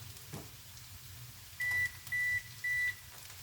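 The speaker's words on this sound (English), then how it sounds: "my oven beep and let me know that the preheating is done." A kitchen oven signals that preheating is done with three short, clear electronic beeps, each about a quarter second long and evenly spaced, standing out against a quiet room.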